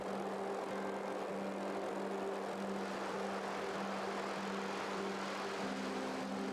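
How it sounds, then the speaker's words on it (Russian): A propeller airplane drones steadily overhead, a faint distant hum with a constant tone and no talking. "Видали, как самолет"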